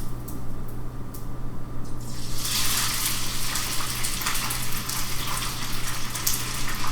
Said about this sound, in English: we're going to drop it, ouch, in this pan of hot oil. And we're going to fry it, pretty much.